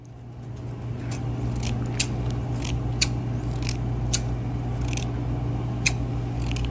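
Scissors snipping hair during a close-mic ASMR haircut, about one crisp snip per second over a steady low hum, with no talking.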